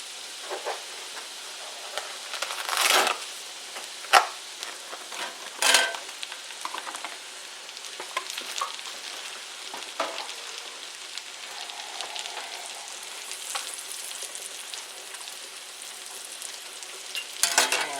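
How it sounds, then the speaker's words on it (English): Mushrooms fry in melted garlic butter in a pan, a continuous crackling sizzle with a few louder bursts and stirring scrapes early on, close and alone with no talking. "now that I've got my butter pretty much melted, I want to add my mushrooms"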